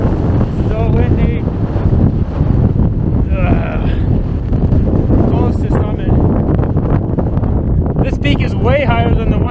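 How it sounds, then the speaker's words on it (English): Strong, steady wind buffets the microphone near a mountain summit on Parker Ridge in Banff National Park, a loud, continuous rushing roar throughout, with a few brief voices speaking under it. "So windy."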